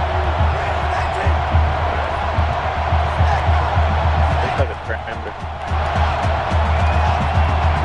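Stadium crowd roar in the NCAA Football 13 video game during a Florida State rivalry game, a constant low rumbling din with a brief dip midway, while a player talks over it.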